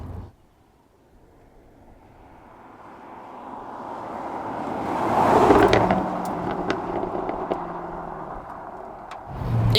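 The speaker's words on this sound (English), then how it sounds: "you also get a bit more supercharger whine come through, which I quite enjoy" A Jaguar F-Type Project 7, the open-roof supercharged special, drives along. Its engine note and supercharger whine build steadily to a loud peak, then hold at a slightly lower level with faint, brief ticks, and no talking is heard.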